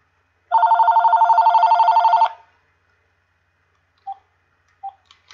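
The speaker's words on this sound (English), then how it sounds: "oh, we have a phone call now." An old-style telephone bell rings with an incoming call, a rapid metallic trill lasting about two seconds, followed by silence and a couple of faint short beeps.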